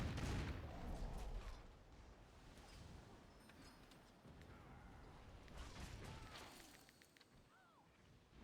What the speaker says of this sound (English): And they're firing cannons at nothing, it would seem.